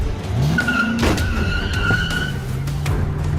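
A four-seater car at high speed skids with a sharp tyre squeal, engine noise and a brief thump, loud and close, with no voices.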